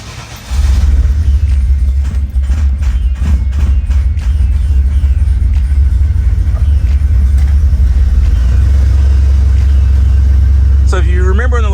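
A Ford SN95 Mustang engine cranks and fires up, then settles into a loud, steady low rumbling idle that runs for about eleven seconds, close by, with a brief faint whine near the end.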